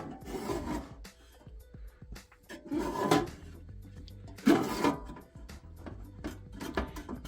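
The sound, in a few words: drawer of Kobalt steel mini toolbox sliding open and closed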